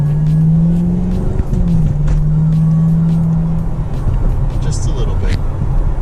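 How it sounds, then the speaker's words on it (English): Chevrolet Camaro SS engine accelerating, heard from inside the car as a loud steady low drone that shifts pitch partway through, with a person talking over it. "This car sounds so good though."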